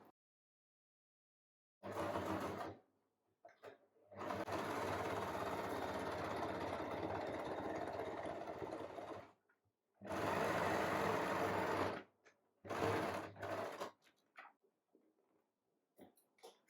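Electric sewing machine stitching the side of a fabric storage basket, running in several bursts of steady mechanical whirring with short pauses between, close and clear with no talking.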